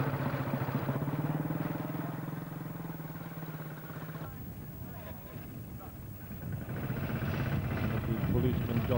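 A 1953 Horex German motorcycle engine runs steadily with a throbbing mid-pitched note that dips briefly and then swells again, heard up close over outdoor background.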